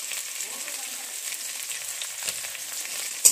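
Nigella seeds sizzle in hot oil with onions already in the pan for a ridge gourd peel mash. The hiss is steady and moderately loud throughout, with a sharp clink at the very end.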